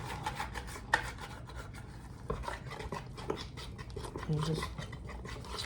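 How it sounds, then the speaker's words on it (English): Pumpkin bread dough being mixed and scraped down the bowl sides gives a steady, rough rasping and rubbing texture, with brief louder knocks, under a voice talking. "I'm just gonna mix it a little more, make sure I scrape down the sides really well."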